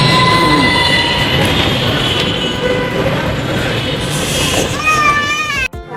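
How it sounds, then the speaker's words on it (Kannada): A metro train arriving at a station rumbles and rolls in steadily, with rising electric whine and squealing wheel tones near the end before a sudden drop. "ಇನ್ನು ಮೆಟ್ರೋನು ಬಂತು"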